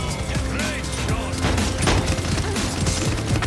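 Busy gunfire in the hero shooter Paladins, a steady chatter of shots under layered game effects and music, loud and continuous with no clear pauses.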